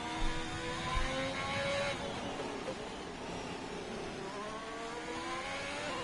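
Onboard engine of a Formula-style race car with DRS and medium tires on a flying lap at the Saudi Arabia circuit in a racing video game, a steady high whine climbing through gears with brief shifts, loud and close.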